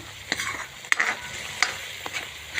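Raw banana curry gravy fries in oil while a spoon stirs it, giving a soft, continuous sizzle broken by several sharp metallic clinks and scrapes against the pan.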